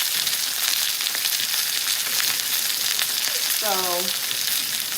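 Seafood cooks in a hot skillet with a steady, dense sizzle throughout, and a voice briefly speaks over it near the end.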